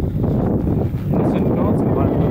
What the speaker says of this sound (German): der Wind ist alles andere als warm